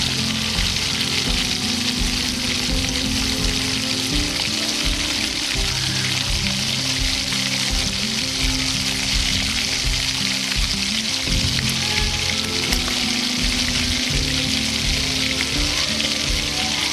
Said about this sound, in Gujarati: હવે આપણે પૂરીને સારી રીતે ગરમ તેલમાં તળી લઈશું।